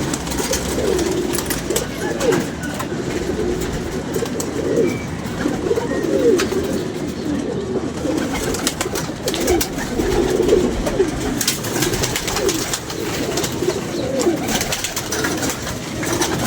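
Pigeons coo steadily and repeatedly close by, a soft layered murmur of several birds that runs on throughout with only faint background voices.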